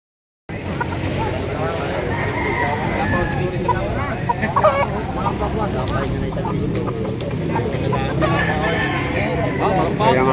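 Chickens cluck and a rooster crows at a Padre Garcia, Batangas poultry market, a busy continuous barnyard clamor with a voice speaking over it throughout.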